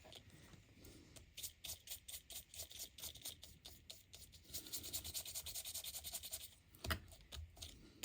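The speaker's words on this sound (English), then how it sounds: "Tells you kind of to burnish it on with your fingers." Fingers burnish gold leaf onto onion skin paper with faint, close papery rubbing strokes in a quick, uneven rhythm. The strokes grow slightly denser toward the end.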